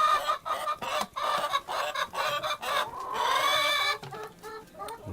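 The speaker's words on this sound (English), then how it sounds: "Leghorn chicken, I believe" A Rhode Island Red and white Leghorn cross hen with golden feathers clucks close by, repeating rapid, throaty calls in uneven bursts that rise into one longer drawn-out cackle before breaking into short clucks again.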